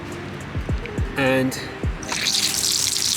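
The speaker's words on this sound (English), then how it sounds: "this is an open tap and it's not too bad, but it splashes quite a bit" Water from an open tap in a small camper runs and splashes into the sink, a steady rushing spray starting partway through, with someone talking nearby.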